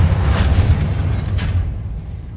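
A fire spell cast in Hogwarts Legacy, heard as a loud, rumbling burst of flame with a deep low roar, peaking early and then fading slowly over a couple of seconds.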